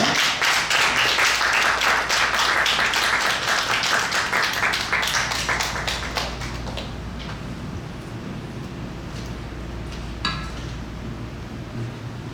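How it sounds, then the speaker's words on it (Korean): A church congregation clapping to welcome a missionary serving in Thailand at a Sunday service; loud, rhythmic clapping for about six seconds, then fading into quiet room tone with a single faint knock later. "여러분 박수로 환영하도록 하겠습니다"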